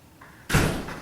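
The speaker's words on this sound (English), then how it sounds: "Jim, will you get the door?" A house door swings open for an arriving visitor, a soft click followed by a loud, full-bodied thud as it is pulled open nearby, with a lingering rustle after.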